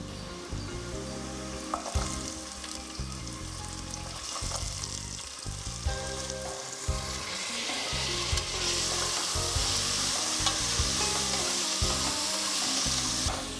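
Loud, steady sizzling of chopped plantain stem frying in a hot pan, with occasional stirring scrapes and a hiss that grows fuller partway through.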